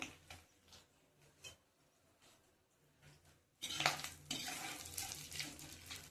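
Quiet kitchen clatter gives way to a sudden loud sizzle as spice paste frying in a pan, after fish has been fried, crackles steadily to the end.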